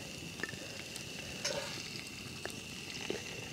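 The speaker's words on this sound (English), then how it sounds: "You can hear it sizzling." Food sizzles steadily in a hot pan, a soft crackling hiss with a few faint clinks and scrapes, fairly quiet.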